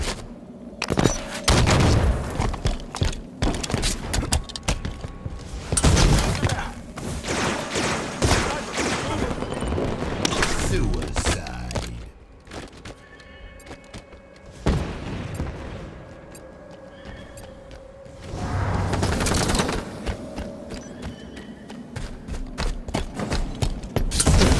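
Gunfire and rocket explosions in a Halo 5 ranked slayer match: dense, loud bursts of shots and booming blasts come nearly without pause, with a few brief lulls and occasional game announcer voice lines.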